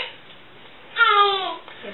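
A baby babbles in a home kitchen, a short burst of voiced syllables from the infant in the background, otherwise quiet.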